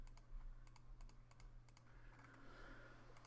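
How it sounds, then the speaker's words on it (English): A computer keyboard is typed on in quick, light bursts of clicking keys while a sudoku puzzle is being solved, the clicks faint over a low steady hum. "I should be using the keyboard for this."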